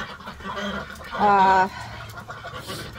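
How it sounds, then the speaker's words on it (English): Pet ducks quacking nearby in a strong harmonic burst, with softer scattered calls before and after, while a person talks over them at home. "I'm sure you can hear my ducks right now."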